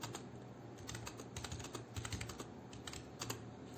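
Quick, irregular typing on a computer keyboard while filling in answers in an Excel spreadsheet game, close clicks in short bursts with brief pauses.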